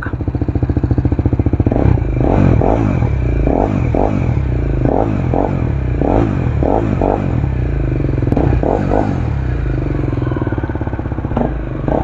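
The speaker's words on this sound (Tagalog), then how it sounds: "BMW G310 GS Akrapovic exhaust, sound check." A BMW G310 GS motorcycle fitted with an Akrapovic exhaust rumbles loud and close, its engine blipped in a run of quick, rhythmic revs over a steady throaty idle.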